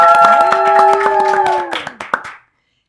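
Quick, rhythmic handclaps sound over a sustained held tone, then a few scattered claps trail off before stopping abruptly, leaving silence, during a Ramadan broadcast program from a campus studio.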